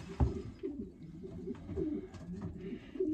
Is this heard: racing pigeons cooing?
yes